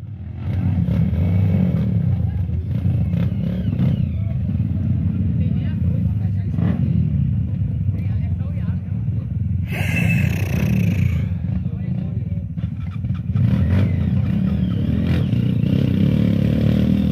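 A motorcycle engine rumbles and revs continuously up close while climbing a steep off-road trail in Ceará, Brazil, with people's voices calling out over the noise.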